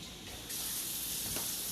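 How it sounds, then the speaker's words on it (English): Tap water gushing into a sink to rinse live seafood, a steady broad hiss that grows fuller and louder halfway through, close and continuous with no speech. "right now I'm getting ready to rinse Dave out"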